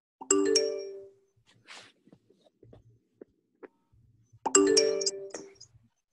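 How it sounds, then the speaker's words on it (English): A mobile phone ringtone sounds in a room, two loud bright melodic chime phrases a few seconds apart with faint quiet noises between them. "Whose phone is that?"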